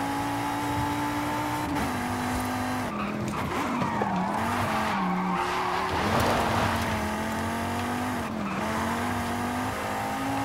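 Tires of an Audi TT RS screech in repeated long skids in a racing video game, with a steady engine note underneath, loud and continuous throughout.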